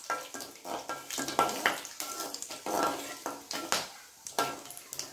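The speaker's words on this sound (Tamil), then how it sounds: "இதை நல்லா ஒரு தடவை கிளறி விட்டுடலாம்." A utensil scrapes and stirs repeatedly through cloves and fennel seeds sizzling in a pan, rhythmic metallic strokes over a soft frying hiss.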